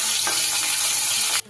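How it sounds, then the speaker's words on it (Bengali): Vangor fish fry in hot oil in a pan, giving a loud, steady sizzle with crackling that carries on evenly and then cuts off abruptly near the end. "মাছগুলো কিন্তু আমার ভাজা হয়ে গেছে"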